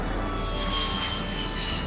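A Lockheed U-2 high-altitude aircraft's jet engine gives a steady, loud, broadband roar with a whining tone on top, continuous and close, with no talking.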